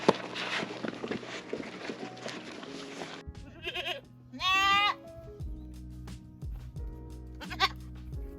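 A baby goat on a small homestead, recently dehorned, gives a few short wavering bleats after a stretch of rough rustling and handling noise, with low hum and scattered clatter around it.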